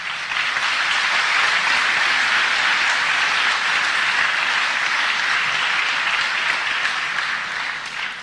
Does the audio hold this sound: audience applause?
yes